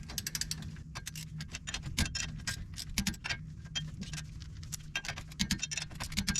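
A torque wrench tightens the front wheel hub nut on a 1989 Chevy K1500 Silverado, producing a rapid run of sharp ratcheting clicks, close and fairly steady throughout.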